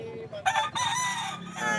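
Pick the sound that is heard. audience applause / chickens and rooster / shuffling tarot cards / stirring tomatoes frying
chickens and rooster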